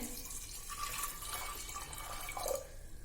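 Water pours steadily into a pressure cooker for amaranth greens gravy, a soft continuous splashing and trickling, close and fairly quiet.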